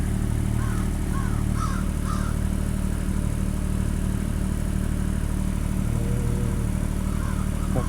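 A Ford tractor in low range first gear at about 1500 RPM pulls a post out of the ground, its engine a steady low drone throughout, with faint bird calls in the background.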